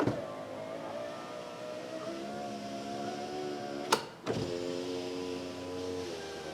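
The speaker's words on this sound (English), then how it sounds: "Now let's test the window with the door switch." A Toyota Highlander rear driver-side door power window runs on its door switch, a steady close motor whine with a brief clunk partway through as it reverses direction, then continues humming.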